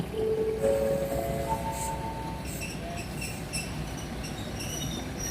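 An eastern line commuter train stands at Hua Mak station in Bangkok, heard as a steady rumble with high, tonal squeals from the wheels early on and scattered metallic clinks and chimes later, fairly close and with no clear talk.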